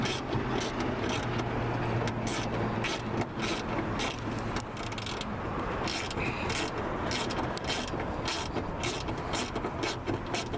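Screws being tightened by hand on a Toyota Sienna wiper motor, a steady run of small ratcheting clicks and mechanical ticks continuing close up through the whole stretch, with no talk.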